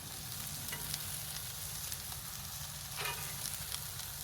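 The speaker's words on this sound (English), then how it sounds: "I'm going to actually take all my veggies, put them in that top cast iron with the chicken" Peppers, onions and chicken sizzling in a cast iron skillet on a grill, a soft, steady frying hiss with a faint scrape near the end, quiet and without talk.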